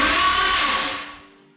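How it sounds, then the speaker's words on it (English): Starter motor cranking a boosted 3.0L boat engine with the solenoid wire hooked up and the battery at 9.5 volts: a loud, harsh, whirring grind that holds steady, then fades and drops off over under two seconds. "Why is that starter so loud?"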